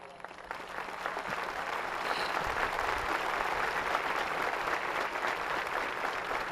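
An audience at a Cuban state speech breaks into sustained applause from a podium setting, a broad, even roar of clapping that rises quickly and stays strong to the end.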